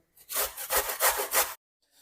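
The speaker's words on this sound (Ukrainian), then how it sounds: "натираю морку на крупній терці" Rhythmic back-and-forth scraping of a carrot on a coarse grater, four strokes, close and dry, with no talking.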